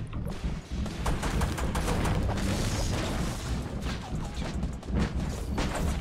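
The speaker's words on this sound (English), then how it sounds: "Oh my god, it's a Tommy gun." A Tommy gun rattles off rapid continuous bursts in a battle royale game, dense and loud for several seconds amid clanking impacts and game noise.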